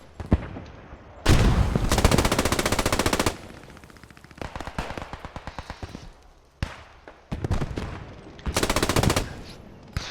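A machine gun firing in a World War II-style multiplayer match involving the King's German Legion, repeated loud rattling bursts of varying length separated by short pauses.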